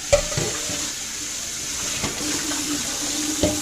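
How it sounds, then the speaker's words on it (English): Warm tap water runs into a kitchen sink to rinse potatoes, a steady splashing hiss with small clunks of the potatoes being handled. "I'm just going to rinse these off with warm water"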